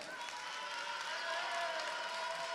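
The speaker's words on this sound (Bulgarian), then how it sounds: "Още един път аплодисменти за представителя на Варна" Applause from a fight-night crowd greeting a kickboxing champion from Varna, a steady, dense wash of clapping that holds evenly throughout, moderately distant with no pauses.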